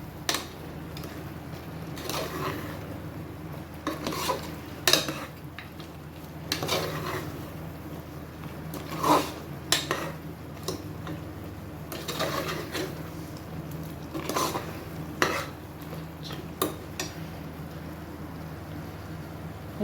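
Mutton kurma masala is turned over in a pan, with scattered scraping and clinking strokes of a utensil against metal spread across a quiet background, close and fairly soft.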